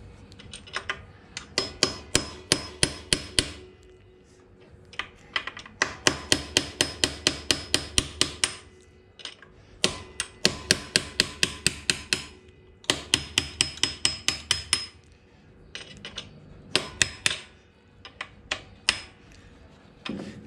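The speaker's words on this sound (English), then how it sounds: "just a simple hammer and a punch and we'll just knock that around" Rapid bursts of metal-on-metal strikes from a hammer and punch knocking a nut loose on a Surron electric motorbike, in quick repeated runs separated by short pauses, loud and close.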